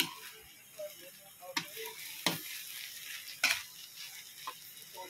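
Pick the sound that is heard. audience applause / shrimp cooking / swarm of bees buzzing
shrimp cooking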